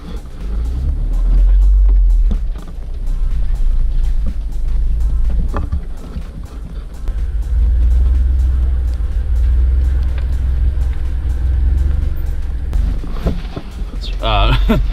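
A Jeep drives along a narrow forest trail lined with dense Christmas-tree-like growth: a loud, steady low engine rumble and wind buffeting continue throughout, with brushing and rattling near the end.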